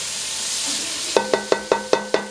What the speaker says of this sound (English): I don't like hearing the clacking of that spoon